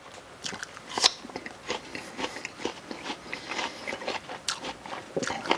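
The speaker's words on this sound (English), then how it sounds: "I'm still chewing." Crisp, wet crunching as someone bites and chews a freshly sliced apple, close and fairly loud, with a sharp bite near the start and steady irregular chewing noises after.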